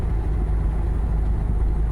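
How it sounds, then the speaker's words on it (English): A loud, steady Toyota FJ Cruiser engine drones close by, its deep exhaust rumble holding fairly even throughout as the gears change, without any voices. "So you can hear the gears changing with the exhaust note."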